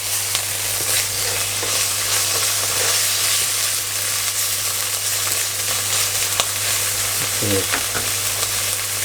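Pork belly stir-frying with curry paste in a hot pan, a steady close sizzle running throughout with scraping stirs of the spatula and a brief clatter near the end.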